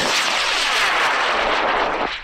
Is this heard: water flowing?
no